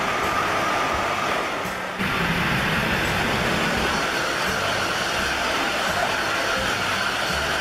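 A German ICE Intercity Express high-speed train produces a loud, steady broadband roar that rushes continuously with a brief break near the start.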